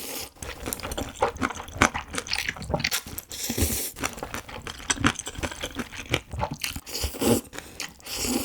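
Close, crisp crunching and wet chewing of Korean soupy duruchigi made with thin-sliced beef brisket and glass noodles, bites and chews coming in an uneven, continuous rhythm with no talking.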